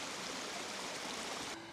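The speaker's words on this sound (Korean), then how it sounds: "계곡물 흐르는 소리가 너무 예쁘네요" Mountain stream water flowing among snow and rocks on Garisan in early winter, a soft, steady babbling rush, faint and continuous, briefly dipping at the end.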